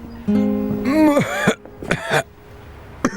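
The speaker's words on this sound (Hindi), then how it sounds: "जब भी मैं पूछती हूँ तुम खांसना शुरू कर देते हो।" A man coughs and clears his throat in a few harsh, voiced bursts in a Hindi-dubbed Chinese action film, close and fairly loud, with short pauses between them.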